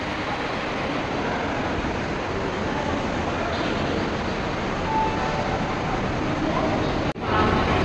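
Constant rumbling din of a busy railway station, with low mechanical roar and crowd hubbub blending into a dense, unbroken wash of noise.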